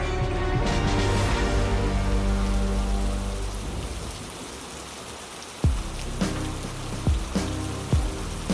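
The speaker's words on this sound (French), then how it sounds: "Une pluie diluvienne s'abattait sur les Pouilles en ce premier après-midi de novembre." Heavy rain pours down, a steady, dense hiss that softens gradually, then gives way to several distinct, sharp drips and splashes landing nearby in an irregular rhythm.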